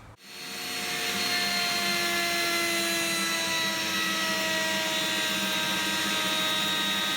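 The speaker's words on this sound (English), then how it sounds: "there is little to no sawdust with the current dust extraction setup I have on this router table" A homemade router table spins up from silence and runs steadily with its dust extraction pulling air, a loud, continuous whining drone with stable tones and a broad rushing hiss, alone and close throughout.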